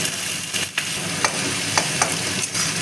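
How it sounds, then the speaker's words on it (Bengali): Chopped onions sizzle and fry in a pan for a Bengali-style fish roe dish, a loud continuous crackle broken by several sharp scraping strokes of a spatula as they are stirred. "পেঁয়াজ কুচিটাকে ভালো করে ভেজে নেব।"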